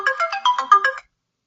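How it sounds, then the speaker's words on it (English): A phone alarm ringtone plays a short, bright melodic run of about eight quick notes, loud and close, then cuts off into silence. "That's my alarm on my phone."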